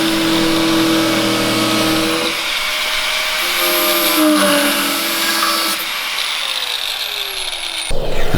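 Power tool trimming a body kit panel over the fender of a Nissan 240, a steady high-pitched grinding whine running loud and continuous for several seconds before shifting pitch and stopping briefly near the end.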